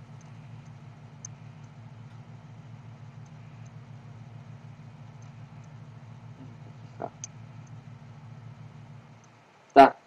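In the racing game Need for Speed Most Wanted 2012, a car engine idles with a soft, even throbbing pulse, then dies out near the end with a brief sharp thump.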